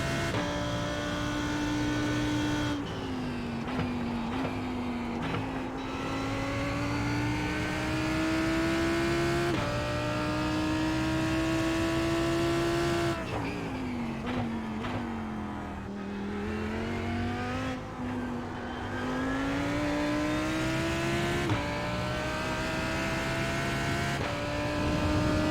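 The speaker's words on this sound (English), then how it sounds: "No firefights, it's a Lambo. Lamborghini Huracan GT3." A Lamborghini Huracan GT3 race car in iRacing drives with a loud, close engine howl that rises through the revs, dips briefly at gear changes and keeps climbing again. No one speaks.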